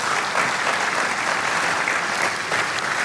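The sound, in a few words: audience applause for the pastors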